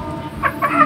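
A chicken clucks a couple of short cackling notes in a backyard taro garden in the Philippines, moderately close over a low outdoor background.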